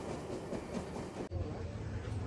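Rocky Mountaineer luxury passenger train rolling on rails between Vancouver and Banff, a steady loud rumble and hiss of wheels that shifts abruptly midway, as if a door or vestibule opened, with no one talking.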